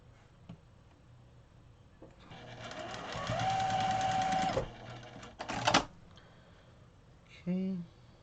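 Sewing machine joining Broken Dishes quilt blocks into rows, one steady run of close whirring stitching followed by brief clicks and a short final burst.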